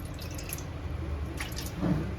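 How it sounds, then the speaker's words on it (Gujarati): Water goes into a pan on a gas stove for sugar syrup, a soft trickling and dripping, close and fairly quiet, with no talk. "આપણે ગેસ સ્ટવ ઓન કરી દઈએ અને તેમાં આપણે થોડું પાણી એડ કરીએ"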